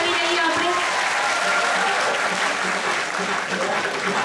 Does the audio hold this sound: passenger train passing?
no